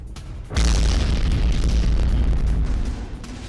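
Rockets are fired at Ukrainian posts near Kursk: a sudden deep boom gives way to a sustained, rumbling roar that slowly fades over a few seconds.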